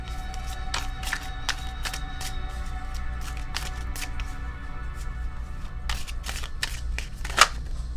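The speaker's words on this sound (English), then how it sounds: "I'm just going to shuffle these ones." An oracle card deck is shuffled by hand, with a run of quick, crisp riffling bursts in irregular rhythm over a quiet background hum, close and fairly soft, one louder snap near the end.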